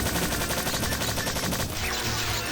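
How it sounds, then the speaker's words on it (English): An assault gun fires in rapid bursts in the video game Strife, a dense rattling volley of close, loud shots that tails off into echo near the end. "And let's use the assault gun."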